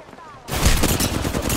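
Dense close-range automatic gunfire in the battle-royale game Apex Legends, a loud sustained volley erupting abruptly after a quieter moment and continuing to the end.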